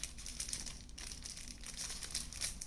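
A paper leaflet from a Redmi Note 8 Pro phone box crinkles and rustles continuously as it is handled up close, soft and steady with no speech.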